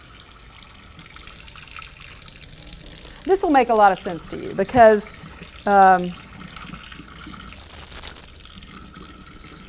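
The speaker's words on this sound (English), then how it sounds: "then you come over and you get some hot water." Hot water runs from a kitchen tap into a measuring cup while biscuit mix is being prepared. A steady, fairly quiet rush of water continues underneath a person talking.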